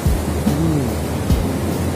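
High tide ocean waves in Bali produce a continuous broad rushing wash with low rumbling surges, while faint voices sound briefly in the background.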